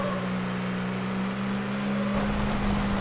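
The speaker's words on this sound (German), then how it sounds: "Ich höre die ganze Zeit einen Motor hinter mir so." Car engine behind the player in the racing game Need for Speed Hot Pursuit 2, a steady droning hum that swells into a rougher, louder roar near the end, continuous with no talk.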